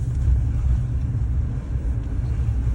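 A Chevy truck engine idles nearby, a steady deep low rumble with no changes in pitch, loud and continuous with no talking.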